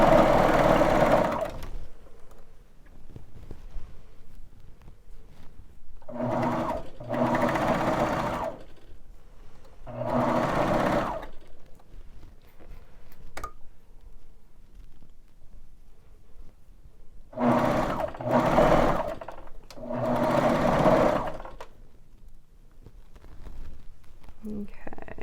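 A Baby Lock Vibrant sewing machine stitches toddler pajamas in several short bursts of rapid, buzzing needle runs separated by quiet pauses, close and moderately loud.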